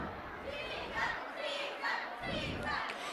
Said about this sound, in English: Just then a great cheer comes from the crowd in the distance.